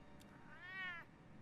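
A cat in the Batman Telltale Series video game lets out a single short, clear meow, faint against a quiet background with no speech.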